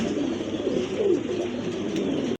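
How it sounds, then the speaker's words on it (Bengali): Lahori pigeons cooing steadily at close range, a continuous murmur of soft low coos layered over one another for the full stretch before cutting off abruptly. "সিরাজি কিন্তু না ভাই, এটা লাহোরি কবুতর।"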